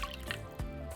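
Lime juice pours into a large bowl of olive oil for a steak marinade, giving a brief, close liquid splash and drip lasting about a second.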